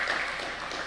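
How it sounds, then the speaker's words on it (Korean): A church congregation claps to welcome visiting members, a brief, even patter of hands at moderate loudness with no talking over it. "환영의 박수를 부탁드립니다"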